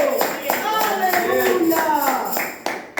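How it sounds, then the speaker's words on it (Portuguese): A church congregation claps in a regular rhythm of sharp beats, with a voice speaking or singing over the clapping until it stops abruptly. "receba a serva do Senhor com palmas para Jesus Cristo."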